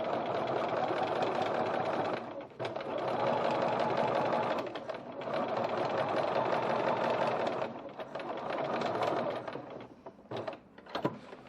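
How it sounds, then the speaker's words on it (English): A sewing machine runs in long steady bursts while top-stitching the foam phone pocket of a large bowler bag, with brief pauses between runs and a few short stops near the end. "Now as you stitch, kind of pull that foam pocket away so it stops the seam from rolling there."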